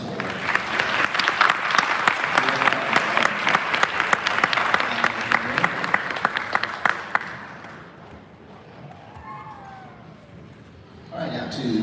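Loud, dense applause from a graduation ceremony crowd, class of 2023, with cheering mixed in, sustained for about seven seconds before fading to quieter crowd murmur and a brief burst of noise at the end.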